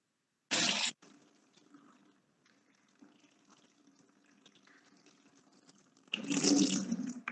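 Water runs out of the nose during a jal neti nasal rinse: a short loud splashing burst, then a faint steady trickle, then a louder gushing pour at the end, with no talking.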